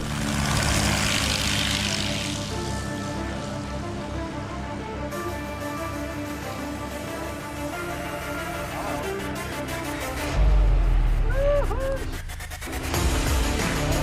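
Propeller airplane flying and coming in to land, a loud droning engine and prop buzz that swells, shifts pitch and rumbles near the end, with a few other noises mixed in.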